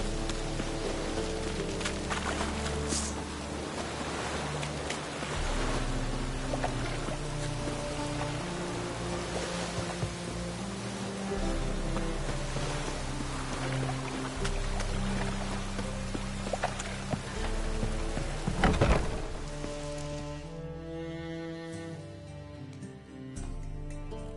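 Steady rain pours in a PS4 video game, a dense even hiss of drops on surfaces that continues alone, with game music underneath.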